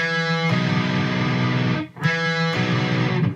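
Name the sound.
electric guitar hammer-on played too hard, distorted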